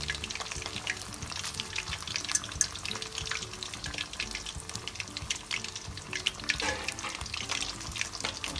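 Minced pork roll fries in a pan with a steady, crackling sizzle that fills the whole stretch, busy and close, with small bursts and clatters as the piece is turned.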